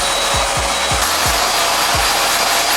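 A hair dryer blows steadily and loudly at close range while drying hair at home, a continuous broad airy roar with a few low rubbing bumps from hair being brushed through with fingers, no talking.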